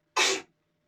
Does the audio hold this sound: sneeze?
yes